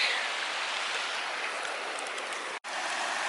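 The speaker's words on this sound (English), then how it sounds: "let's cross this lovely creek" A mountain creek in the Elbow Pass area of Alberta rushes steadily nearby, a loud, dense hiss of flowing water that drops out for a moment near the end before resuming.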